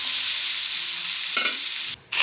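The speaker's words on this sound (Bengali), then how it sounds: "কাঁচা লঙ্কাটাও আলুর সাথে একটুখানি ভাজা হোক" Potatoes and green chillies fry in a pan outdoors in an open field, a loud continuous sizzle with a brief scrape of stirring and a short break near the end.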